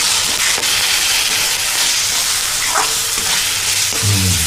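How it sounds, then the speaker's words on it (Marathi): Potatoes sauté with usal masala in a hot pan, giving a loud, continuous sizzle and frying hiss with a few stirring scrapes. "परतून घ्या."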